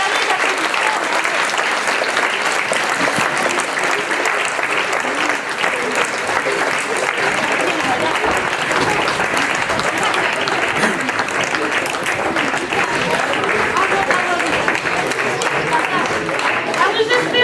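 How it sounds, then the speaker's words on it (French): A theatre audience applauds children at the close of a show, with dense, sustained clapping from a crowd that stays loud and even throughout, unbroken by speech. "vous pouvez monter pour le dernier applaudissement"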